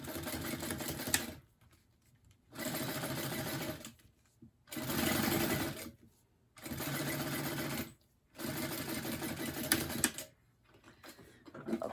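A sewing machine top-stitches a purse in five steady whirring runs of about one to two seconds each, separated by short quiet pauses.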